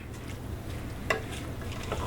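Carrot cake jam with brown sugar and spices is stirred in a pot: quiet scraping strokes over a faint low bubbling, with one brief clink midway.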